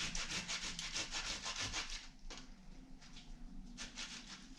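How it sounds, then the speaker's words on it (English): A ripe tomato is rubbed against a metal box grater while paella is prepared, giving a steady run of close, wet rasping strokes that pauses briefly midway and then resumes. "We're actually going to grate the tomato."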